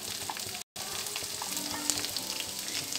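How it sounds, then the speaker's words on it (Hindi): Onions sautéing in a pan with carom seeds for bhindi masala: a constant close sizzle with occasional soft crackles and no talking. "इन प्याज़ों को थोड़ा सा हम भूनेंगे"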